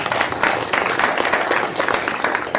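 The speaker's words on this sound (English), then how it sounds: "So another round of applause for Michael." Applause at a school board meeting honoring a student moving up to fourth grade, a dense, lively burst of audience clapping filling the room, loud and continuous without breaks.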